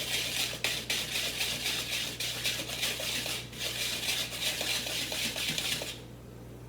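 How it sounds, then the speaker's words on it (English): Quick rhythmic whisking of flour, baking soda and salt together in a mixing bowl, a fast run of light metal-on-bowl scrapes and taps that stops abruptly near the end. "now all we do is we just whisk this very quickly together"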